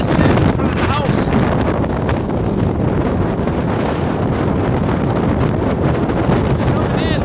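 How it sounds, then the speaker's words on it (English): A high wind drives sand through a residential street during a sandstorm, roaring loudly and steadily against the microphone in heavy buffeting gusts throughout. "Barreling in. A high wind."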